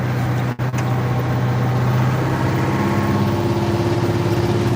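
The V8 DVT 800 diesel engine of an International 4786 tractor runs steadily nearby, a deep droning rumble with a brief dip early on, then a slight shift in pitch.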